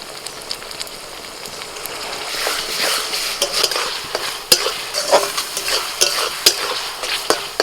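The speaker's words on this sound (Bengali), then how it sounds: "সবজির সাথে ভালো করে সসটাকে মিশিয়ে নিয়ে" Vegetables stir-fry in a pan with Schezwan, tomato and soy sauce for Schezwan rice. A busy crackling sizzle builds under repeated sharp utensil clinks and scraping, loud and close, with no speech.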